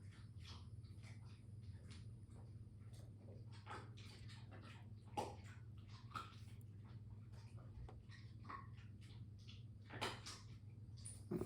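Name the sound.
dog chewing on a bone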